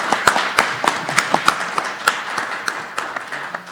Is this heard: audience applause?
yes